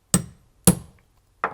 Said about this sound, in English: take my hammer and just do one firm push.